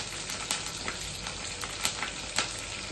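Chana dal, cashews and green chillies sizzle in hot oil for tamarind pulihora, a close, dense, steady crackle with occasional louder spits and stirring scrapes.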